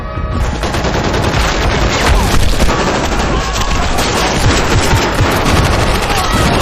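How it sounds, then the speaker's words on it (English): Rapid gunfire in a chaotic shootout between a detective and triad squads in the film Havoc, dense bursts of automatic fire and booms continuing loudly without pause. "a shootout broke out between Vincent and the triad squads"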